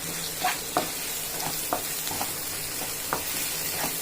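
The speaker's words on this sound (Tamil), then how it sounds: "பொடியாக நறுக்குன ஒரு ரெண்டு வெங்காயம் பெருசாக அதை சேர்த்துக்கிடலாம் சேர்த்து நல்லா கலந்து விட்டுருவோம்" Chopped onions sizzle gently in a pan with a few soft scraping stirs at irregular intervals, close and fairly quiet, no talking.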